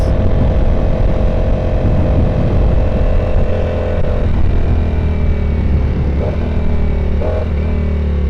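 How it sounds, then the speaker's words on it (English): A Ducati V4S motorcycle engine drones steadily and loudly while riding, with a deep low hum and a couple of brief rising revs near the end; wind and road noise mix in. "that is just one thing that you cannot beat about this bike, is just the sound"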